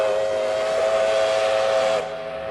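An old railway train sounds its steam whistle, a loud sustained chord-like blast lasting about two seconds before cutting off, leaving the low rumble of the train behind.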